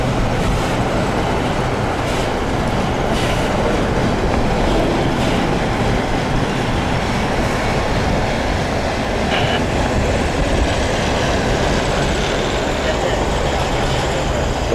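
A freight train with two broken knuckles rumbles past a railroad crossing, producing a steady, loud roar of wheels and clattering cars that holds at an even level throughout.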